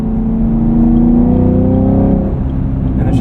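A 2023 Chevrolet Camaro 1LT with a 3.6L V6 and manual gearbox, heard from inside the car, rumbles steadily, rising in pitch as it revs and then easing off, with no talk over it.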